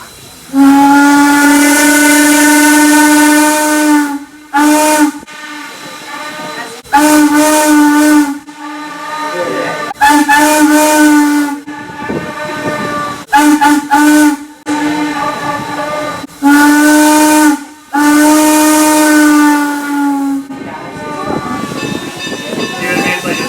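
A Norfolk & Western steam locomotive whistle blows loud and close in a series of long, harmonically rich blasts with short gaps between them, over a steady hiss of escaping steam.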